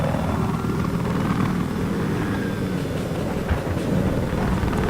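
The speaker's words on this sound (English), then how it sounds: "is flying his attack chopper" An attack helicopter in an online combat video game flies with a steady, loud rotor and engine drone, continuous and unbroken, with no talk.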